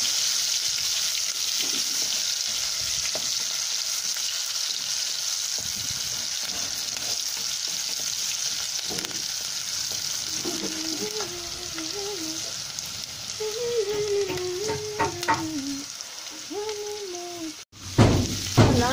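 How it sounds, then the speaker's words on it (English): Steady, loud sizzling of tomato with salt frying in a pan, a continuous hiss with bubbling and stirring clatter, ending in a brief sharper clatter. "I will just add tomato. I will fry it for some time"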